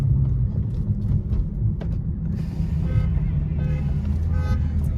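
Dodge Hellcat engine rumbling in traffic with bald tires, a deep steady low growl filling the whole stretch, with faint mechanical creaks and a brief horn-like tone on top.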